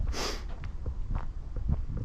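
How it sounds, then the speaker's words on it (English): A loud, close sniff opens the clip, followed by softer snorting and breathing sounds with faint background noise, outdoors on a summer nature sanctuary trail. "Pardon the sniffles again."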